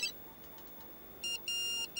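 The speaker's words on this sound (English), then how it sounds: "It's my new mobile phone. The latest model, you know." A new mobile phone rings nearby with short electronic tone bursts, a brief beep followed by two sustained pulses of a pure high ringtone over quiet room noise.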